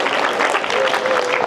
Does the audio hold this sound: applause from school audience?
yes